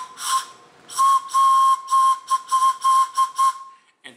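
A homemade pan flute made from straws plays a run of breathy, whistle-like notes, one long tone followed by several shorter ones in a quick melodic sequence, heard close and alone.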